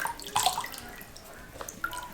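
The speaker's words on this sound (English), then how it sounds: "now we're gonna go ahead and dip these in water" Cloth shoes are dipped into a bowl of water for tie dyeing, giving soft splashes and drips in short bursts, quiet and close.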